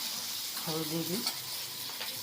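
Suji frying with turmeric in a pan, a faint steady sizzle with light stirring scrapes, and a brief voiced sound partway through.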